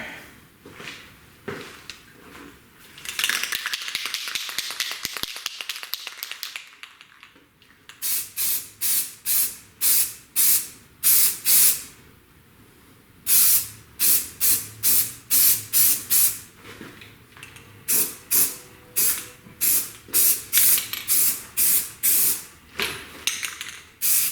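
Primer sprays from an aerosol can onto a fabricated intercooler mount in a driveway: a longer hiss, then a quick run of many short, loud, evenly paced bursts with brief pauses between them.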